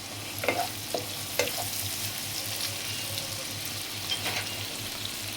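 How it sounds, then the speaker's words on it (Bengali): Whole cubeb spices drop into hot oil for shrimp pulao and sizzle, a steady close frying hiss with a few sharper crackling bursts, no voices. "কাবাব চিনি দিচ্ছি"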